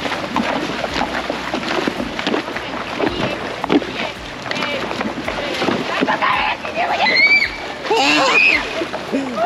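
Horse wading into water with repeated churning splashes, close and loud, with wind buffeting and people talking alongside.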